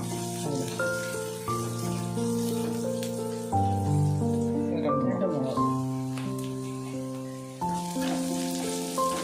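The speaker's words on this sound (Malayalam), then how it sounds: "ചെറിയ ഉള്ളി 4. വഴറ്റിയെടുക്കണം അല്ലേ?" Four small shallots sautéing in a pan for a Kerala ash gourd curry give off a steady, soft sizzle and crackle that runs throughout, partly under voices and strong tonal sounds.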